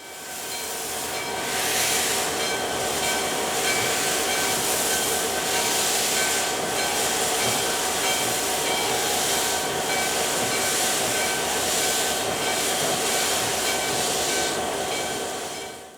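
DM&IR steam locomotive 332 backing out of a museum onto the North Shore Scenic Railroad, a loud, continuous hiss of steam and rolling rail rumble with regular chuffing pulses, close and sustained, fading slightly at the end.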